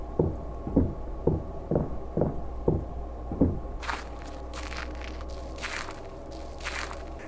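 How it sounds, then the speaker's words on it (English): Footsteps on grass in a first-person horror game built in Godot 4: about six evenly spaced soft crunching steps, then sharper brushy rustles and crackles, close and alone without speech. "I won't speak for now, I'll just let you guys hear the footstep sounds"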